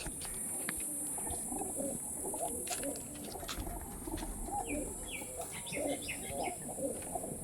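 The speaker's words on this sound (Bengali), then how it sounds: "পাঠা পায়রা আর কিছু বাচ্চাও আছে" Male and female fancy pigeons with a few young birds, including Sylheti kasuri and teddy types, give repeated soft throaty coos, with scattered higher chirps, close by and without talk.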